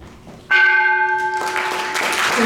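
A church-style bell rings once at a peace ceremony on the United Nations Day of Peace, its bright, sustained tone starting suddenly and lingering for about two seconds, loud and close, with faint crowd noise beneath.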